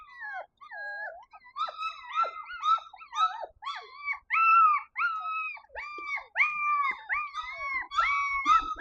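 Five-week-old Heidi x Catcher puppies outdoors for the first time let out a continuous run of high, yelping whines and little howls, several overlapping, close and fairly loud, with no talk.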